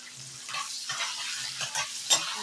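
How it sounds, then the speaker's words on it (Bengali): Beaten egg with turmeric and salt fries in a pan, a steady soft sizzle with light stirring scrapes and a sharper clink near the end, no voices. "নুন হলুদ দিয়ে ডিমটাকে কিন্তু আমি ভালো করে ভেজে নেব।"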